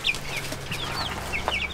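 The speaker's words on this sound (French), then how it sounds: "Donc c'est des poules favrolles, elles ont des plumes bien garnies." Faverolles hens and chicks a few weeks old, fully feathered, cluck and peep steadily in an old henhouse, with several birds chattering close by and a sharp call near the end.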